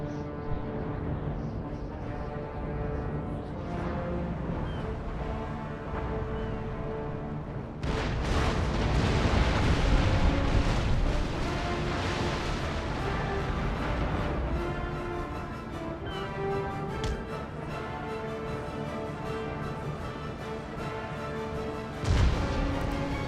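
Naval cannon broadsides in Empire: Total War, with heavy booming shots rumbling across a sea battle, a dense continuous barrage that swells mid-clip, and a sharp louder blast near the end.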